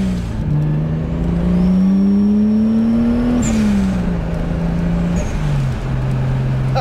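A turbocharged car pulls hard in first gear, its engine note rising steadily under load with a faint turbo whistle on top, then dropping sharply at the shift before settling lower; loud and close, no talking.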